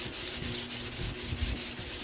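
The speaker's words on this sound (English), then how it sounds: "That noise you're hearing is my heater." Faint, steady whoosh of a small room heater running in a workshop, with a soft, even rushing texture and a faint pulsing rub, no voices.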